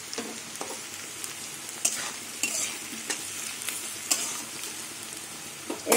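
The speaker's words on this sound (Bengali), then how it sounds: "এবার আলু পেঁয়াজ কিছুক্ষণ ভেজে নেবো।" Potatoes and onions fry in a pan for a mustard–poppy seed drumstick stir-fry, with a steady sizzle and repeated sharp scrapes and clinks of stirring, fairly close and alone without talk.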